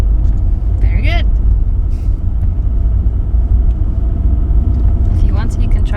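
A manual car's engine rumbling steadily from inside the cabin as a learner drives, low and continuous with voices talking over it.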